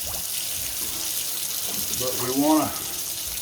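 Kitchen tap running warm water while corn cob jelly is being made, a soft, steady gush of flowing water with a person talking over it.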